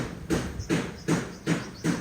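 Steady construction hammer blows repeat about every 0.4 seconds, a regular thudding rhythm at moderate distance with faint background hiss.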